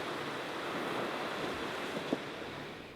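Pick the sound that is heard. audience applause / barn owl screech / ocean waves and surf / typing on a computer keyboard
ocean waves and surf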